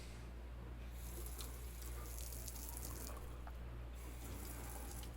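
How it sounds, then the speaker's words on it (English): Water squirts out of the middle of a test setup in a steady, continuous, hissing spray, fairly quiet and with no voices. "Water squirting out of the middle."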